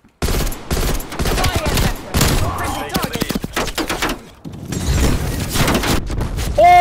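Rapid gunfire from Call of Duty Black Ops Cold War multiplayer, loud close bursts of automatic shots with short pauses, a brief lull midway, and someone talking excitedly over the shooting.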